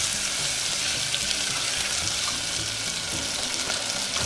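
Potatoes and torn curry leaves fry in oil for sabudana khichdi, a constant close sizzle with a faint hiss, steady and even throughout with no talking.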